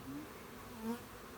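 Honeybees hum steadily inside an opened hive box during a first full inspection, a close, continuous buzz with a few individual bees droning louder as they pass nearby.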